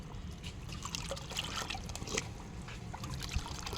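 Liquid fertilizer made from kitchen compost pours into a bucket of water, a steady close splashing trickle that runs unbroken the whole time.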